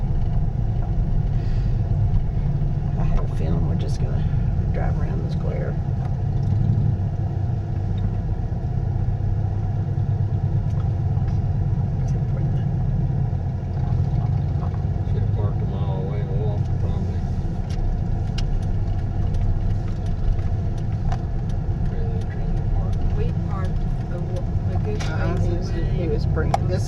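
A car drives slowly around a town square in Santa Fe, its engine a steady low rumble with road noise throughout, while people in the car talk over it.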